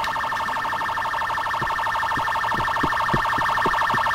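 Police siren in GTA 4, a loud, steady wailing tone with sharp periodic pulses that runs the whole time, with no voices over it.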